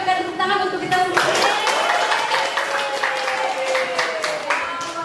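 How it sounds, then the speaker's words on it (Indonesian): Applause from a crowd at a classroom guidance session, a steady wash of clapping that fills the whole stretch, fairly loud and close, with some voices mixed in. "Sekali lagi kita berikan tepuk tangan untuk kita sendiri."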